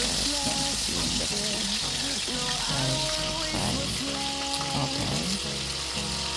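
Fish frying in a pot with thyme and garlic gives a steady sizzle throughout, with broad hiss and crackle, while a person speaks briefly over it.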